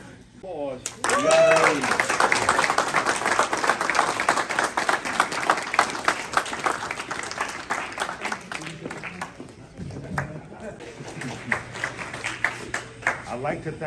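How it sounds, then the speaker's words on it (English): Audience applause at an American Legion law and order awards ceremony, a dense wash of clapping that swells early and holds for several seconds, then thins out, with voices and cheers mixed in near the end. "Applause."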